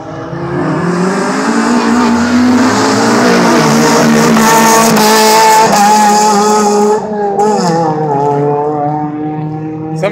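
Race cars at speed, engines screaming loud and close with rising and falling revs through gear changes and a squeal of tires, continuous and dominating throughout.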